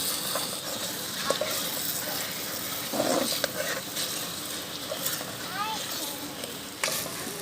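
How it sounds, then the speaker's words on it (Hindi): Semolina halwa is stirred and roasted in a pan in a rustic village kitchen, giving a continuous scraping sizzle with a few louder scrapes and knocks, while a voice speaks faintly in the background. "इसको आपने अच्छी तरह से पकाते जाना है ताकि सूजी भी जो है वो अच्छी तरह से भुन जाएगी"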